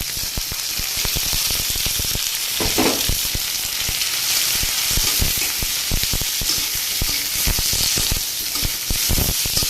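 Broad beans frying in a pan at home, a loud continuous sizzle with crackling pops and occasional scraping stirs throughout, close up and with no talk.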